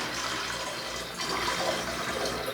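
Tap water runs steadily into a container on a very hot day in Saudi Arabia, a continuous broadband rushing splash that stays even and close throughout with no talking.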